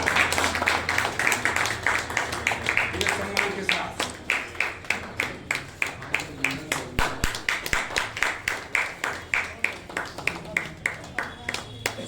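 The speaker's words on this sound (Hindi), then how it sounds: "चलिए भाई ताली बजाते रहिएगा" An audience claps steadily and rhythmically at an award ceremony for successful judicial exam candidates in Aurangabad, Bihar. The claps are close and continuous throughout, with someone speaking over them.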